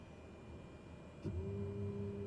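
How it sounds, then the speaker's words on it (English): Cessna 208B turboprop in Microsoft Flight Simulator spooling up midway through, a low steady rumble rising to a louder sustained drone with a tonal whine, no talk. "power the aircraft up a bit"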